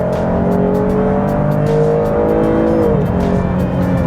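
A 2020 Chevy Blazer RS SUV accelerates hard with a nine-speed automatic, its engine note climbing steadily, dipping briefly at a shift near the three-second mark, then rising again, loud and close with no talking.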